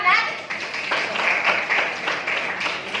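Students in a classroom quiz clap together after an answer, a ragged burst of hand claps with children's voices chattering through it, moderately close and lively.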